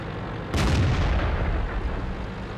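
A single heavy tank cannon shot fires in a tank video game, a sharp blast followed by a long rumbling boom that fades slowly, loud and close, with no talking.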